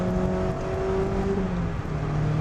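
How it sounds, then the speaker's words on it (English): A Mazda ND Miata RF with a Skyactiv engine accelerates, its steady engine drone rising gradually in pitch from inside the car, loud and continuous with no talk. "you can really feel the torque of the Skyactiv engine"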